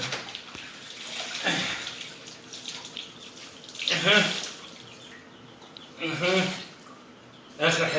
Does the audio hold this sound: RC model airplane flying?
no